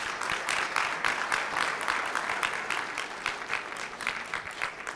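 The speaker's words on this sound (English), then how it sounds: "Let's give our brother a round of applause." A seated crowd at a men's breakfast gathering gives sustained, fairly loud applause, a dense continuous patter of many hands clapping that holds steady for several seconds.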